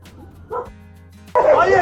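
Dogs at a Turkish dog shelter give a short whimpering yelp, then a louder burst of barking toward the end, close by, with a low hum beneath.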